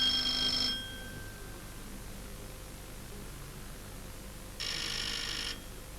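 An electric ringer bell of a German plug-in telephone system buzzes in two short bursts, the first under a second long and the second about a second later, fairly loud over faint background hiss.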